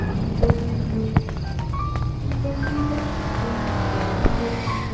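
Car engine in the video game Dude Theft War, a steady loud droning hum with rising tonal whine, overlaid with a few sharp clicks and blips from the game, no voices.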